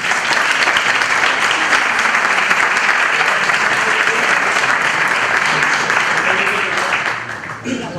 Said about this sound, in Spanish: recibamos a Gonzalo con un fuerte aplauso.